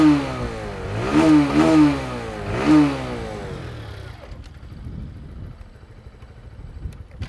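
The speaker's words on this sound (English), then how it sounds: "you do well to have a listen to the exhaust as well" A 2021 TVS Star City Plus BS6 motorcycle engine revs up and down a few times, close and loud, then settles into a low, rumbling exhaust idle.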